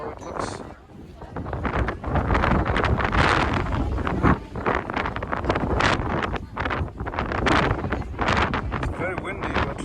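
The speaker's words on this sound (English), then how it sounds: "It's very windy" Strong gusts at Horseshoe Bend near Page, Arizona, batter the microphone in loud, roaring surges that rise and fall across the whole stretch.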